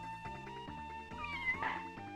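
A looping, synthesized cat yowl from the SNES game The Addams Family: Pugsley's Scavenger Hunt repeats as a stepped, chiptune-style tone with a steady beeping note. The sound is moderately loud and plays alone.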